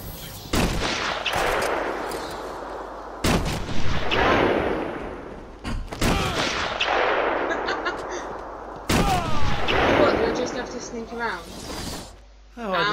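Sniper rifles fire in the Batman: Arkham Asylum game, four sharp, loud cracks spaced a few seconds apart, each trailing into a noisy decay, with character voices talking between and over the shots.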